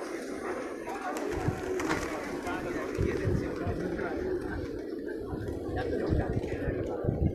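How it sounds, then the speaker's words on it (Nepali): A flock of people-tame pigeons at the Pashupatinath temple grounds in Nepal coos in continuous low, throaty murmurs close by, with people talking over the birds. "आहा, कति राम्रो परेवा, परेवाको बथान।"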